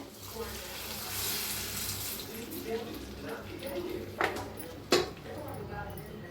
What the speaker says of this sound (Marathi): फोडणी ह्याच्यावर ओतूया.